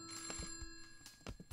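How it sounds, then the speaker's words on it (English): A phone rings insistently in Christmas Shopper Simulator, a rapid bell-like trill repeating in short bursts, faint and alone without talk. "The phone is ringing like crazy."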